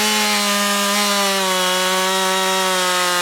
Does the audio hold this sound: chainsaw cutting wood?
yes